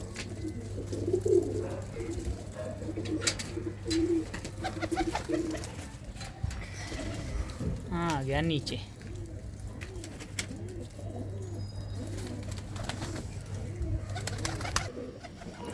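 Pigeons in a loft coo softly and repeatedly near the listener, joined by a few higher chirps, with people talking over them and a steady low hum running through most of the stretch.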